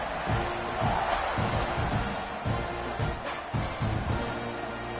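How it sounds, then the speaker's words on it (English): Stadium crowd at an American football game in the fourth quarter, a loud steady roar and buzz of many voices with occasional bumps and thuds, close and continuous throughout. "this crowd is buzzing after that last score"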